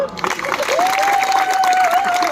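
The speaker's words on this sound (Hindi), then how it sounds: "ताली बजा दो।" An audience at a Hindi comic poetry gathering at Deshbandhu College claps loudly and steadily for a couple of seconds, with a thin sustained whistle-like tone running over the applause.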